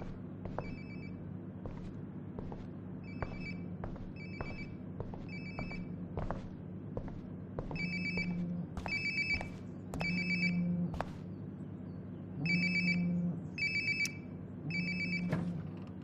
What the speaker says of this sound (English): Sounds like my phone is definitely nearby.